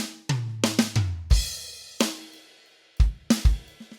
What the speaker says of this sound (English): Here's another old school classic drum fill.